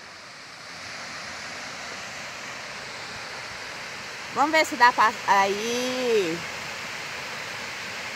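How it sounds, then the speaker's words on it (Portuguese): Waterfall pouring into a small lake in a cold, snowy mountain area, a steady distant rushing roar heard throughout while a person speaks briefly partway through. "A cascata e um laguinho lá embaixo."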